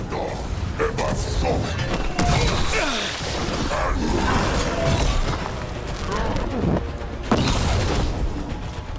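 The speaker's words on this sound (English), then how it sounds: "Cannon fire! Get clear!" Cannon fire rings out in Dragon Age: The Veilguard, heard as several deep booms and thuds scattered across a busy battle mix. Voices and other game sounds run alongside.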